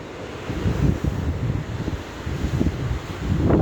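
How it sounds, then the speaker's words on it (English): Hurricane Ian's strong wind roars and buffets the microphone with steady rushing noise and gusty low rumbles, rain falling with the wind, heavy weather outdoors with no talking. "Now it's actually raining with the wind."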